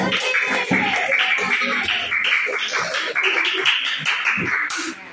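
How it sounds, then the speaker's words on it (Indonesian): Applause in a classroom for a student group presenting on turbines, a steady wash of many hands clapping through the whole stretch, close and fairly loud, with some voices mixed in. "Kasih tepuk tangan dulu buat turbin"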